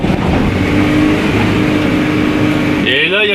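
The engine of a 1982 Renault Trafic van, set up for E85 fuel with ignition being adjusted, drones loudly and steadily up close, its pitch rising near the end as it revs by itself, with a voice talking over it.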